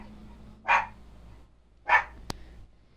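A dog barks twice, loud and close, each bark a single sharp burst about a second apart, followed by a brief click, with a quiet room hum in between.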